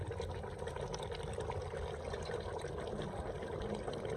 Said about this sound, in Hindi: अब इस मौके पे मैं इसमें थोड़ा सा पानी शामिल करने लगा हूँ ताकि ये अच्छे तरीके से गल जाएं